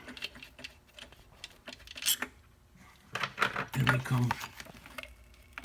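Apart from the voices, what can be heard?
7 mm supercharger bolts pulled out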